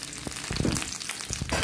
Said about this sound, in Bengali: তেল গরম হয়ে গেছে, তেলের মধ্যে আমি তেজপাতা আর শুকনো লঙ্কা